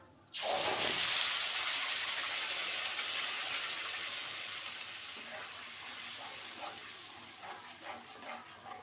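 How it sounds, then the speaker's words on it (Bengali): Whole cumin seeds, chopped onion and ginger-garlic paste hit hot oil with a sudden loud sizzle that settles into a steady crackling hiss, fading slightly while faint stirring clicks come through near the end. "ওই তেলের মধ্যে একটু গোটা জিরে দিয়ে দিলাম, আর পেঁয়াজ, আদা রসুন বাটা"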